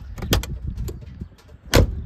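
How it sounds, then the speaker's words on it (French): A 1988 Porsche 911 door shuts with a solid, close clack near the end, after an earlier sharp click and some faint handling noises. "le clac de la porte, bah, je trouve qu'il est satisfaisant"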